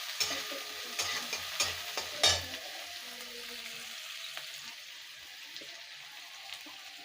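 Chopped onion fries quietly in a pan, a soft sizzle under several sharp clinks and scrapes of a spoon stirring, the clatter fading after the first few seconds.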